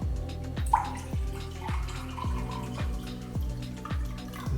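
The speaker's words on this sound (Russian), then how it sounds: "Мы наливаем воду холодную." Cold water being poured into a small container for making coffee, heard as a steady stream with a run of regular, resonant drip-like plops, close and fairly quiet.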